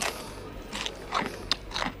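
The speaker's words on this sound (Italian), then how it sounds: "che malignità a dire che mastico rumorosamente" Crunchy pretzel snacks being chewed noisily, a few crisp, close bites and crunches at an uneven pace over a soft background hiss, with no talking.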